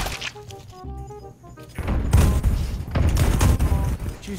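Rapid gunfire crackles through a Warzone match, a close burst of dense shots and thuds layered over game music and effects, with a player's voice heard alongside.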